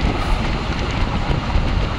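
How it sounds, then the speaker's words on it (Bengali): Strong coastal wind and a roaring, churning sea along the road near Digha and Talsari, heard as a loud, steady broadband rush with gusty buffeting and no voices. "সমুদ্র প্রচণ্ড গর্জন আর প্রচুর হাওয়া দিচ্ছে"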